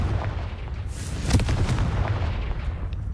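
In Hogwarts Legacy, the Confringo explosive spell goes off as a sharp blast with a deep boom, followed by crackling bursts and rumbling debris, moderately loud against the game's ambient background.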